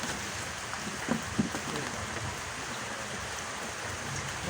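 Steady hiss of rain falling on a fishing pond, a constant broadband wash with a couple of faint knocks, no voices.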